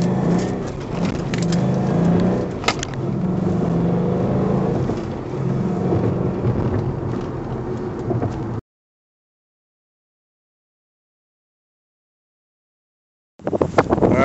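A 2012 Ford Mustang 5.0 with stock exhaust idles and revs, a steady deep engine rumble with a brief sharp blip, then cuts to silence before the sound resumes.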